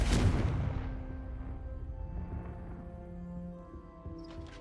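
Confringo blasting curse explosion in Hogwarts Legacy, a loud sharp boom at the start that decays into a rumbling tail, followed by fainter game sounds and a small impact near the end.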